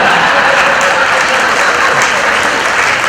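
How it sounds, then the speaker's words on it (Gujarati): Loud, dense applause from a live comedy show audience in Mehsana, continuous clapping filling the room at an even level with no pauses. "એકવાર જોરદાર તાળીઓથી વધાવો જો અહીં બેઠા"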